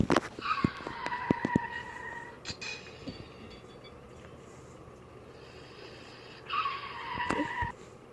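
A car skids away with a tire squeal sound effect, two sharp screeching bursts separated by a quiet stretch, loud and close with no speech.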